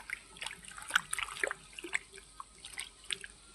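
Wild mushrooms washed by hand under running water, with irregular splashes, drips and light clattering close by at a low level.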